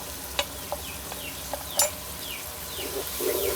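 Ground spices (coriander, chili, turmeric, salt) frying in a pan for arvi leaf curry, with a steady sizzle under scraping stirs and a few sharp clinks of a spoon against the pan.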